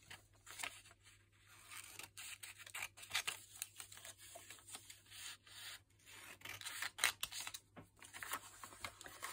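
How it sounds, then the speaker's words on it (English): Scissors snipping through a magazine page for a mixed media craft project, a run of quiet, irregular cuts and paper rustles close by with no talking. "I'm going to cut that out"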